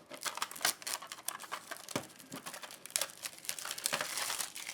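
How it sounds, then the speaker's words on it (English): Plastic packaging being pulled off a Tombow Mono R HB pencil, with quiet, close crinkling and crackling in quick irregular bursts and sharp little snaps, no talk. "So let's get rid of the plastic here."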